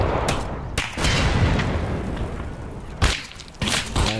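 Grenade blast and gunfire in Escape from Tarkov, several sharp, loud booming cracks with a rumbling low-end tail between them, close by and without talk.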